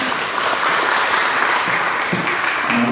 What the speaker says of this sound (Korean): 우리 박홍환 목사님께서 박수 한번 해주시겠습니다